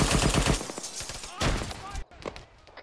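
A frag grenade blast in an Arma 3 firefight, one of several loud broadband booms and gunfire cracks that come in a rapid burst before the sound drops sharply near the end.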